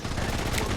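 Rapid automatic gunfire in the Blood Strike mobile shooter game, a dense burst of close, loud shots rattling without pause for under a second.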